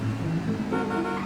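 A car horn sounds amid steady close engine rumble, with no voices, in what appears to be a restricted area being explored.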